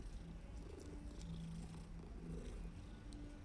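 A cat being petted in the video game Hogwarts Legacy purrs in a steady low rumble that runs throughout, with soft game ambience behind it and no talk.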